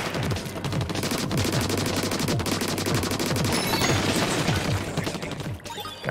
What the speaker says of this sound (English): I can shoot that, I suppose.